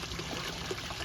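Water from a hose pours into a backyard pond, a steady, faint rushing trickle that fills the moment with no other sound.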